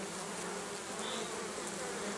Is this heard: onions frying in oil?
no